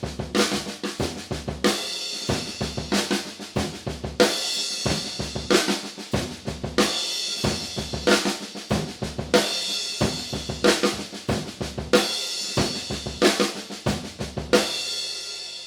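A drum kit plays the studio-version beat of one section of a song. It is a steady driving groove of kick, snare and cymbal hits repeating close up, with crashes marking each phrase and no talking.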